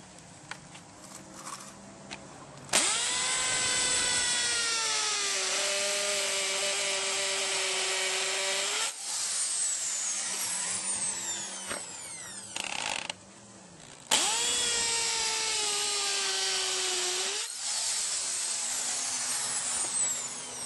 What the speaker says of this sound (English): I'm using a hammer drill and drilling a hole